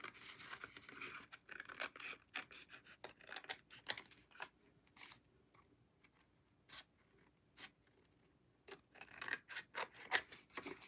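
Scissors trim paper for a craft in a run of close, quiet snips and rustles, bunched irregularly with short pauses between, and no talking.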